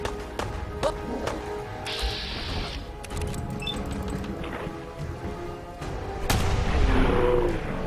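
Fallout 4 gunfire cracks out in bursts of sharp shots and booms over a busy, noisy game soundscape.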